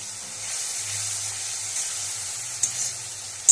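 Spice paste sizzles softly in a pan on the stove, a faint continuous hiss with a couple of brief clinks from stirring near the end, no talking.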